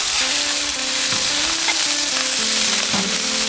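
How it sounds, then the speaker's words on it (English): Burger patties sear loudly on an oiled, high-heat Blackstone griddle, a steady close sizzle with a few scraping and tapping sounds mixed in. "we're on high heat because we want to sear these burger patties"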